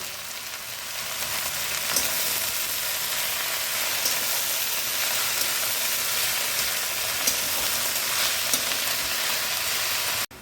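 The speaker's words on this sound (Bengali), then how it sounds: "পুরো শাকটা আমি দিয়ে দিলাম, এবার একটু নাড়িয়ে নেব" Amaranth greens frying in hot oil while being stirred, a dense continuous sizzle and crackle that stays loud and even throughout, with no talking.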